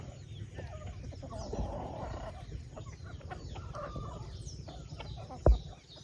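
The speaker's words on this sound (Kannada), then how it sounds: "ಕಾಡು ಕೋಳಿ ಹೇಗಿದ್ದಾವೆ ನೋಡಿ" Jungle fowl foraging outdoors, several birds clucking softly and irregularly at moderate distance, with a single sharp knock near the end against quiet background noise.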